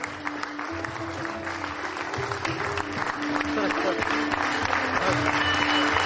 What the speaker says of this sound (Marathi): प्रत्येक सरांसाठी आपण जोरदार टाळ्या वाजवूया